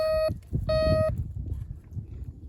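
DR.ÖTEK MT-XR metal detector in a wood, giving two clear steady tones in quick succession over low rustling and handling noise.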